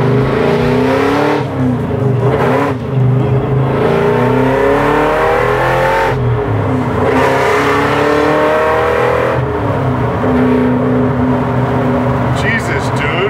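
A supercharged 5.4-liter, 800 hp 1967 Ford Mustang accelerates up close with a loud, raw engine roar that rises and falls through several pulls. People talk over the engine.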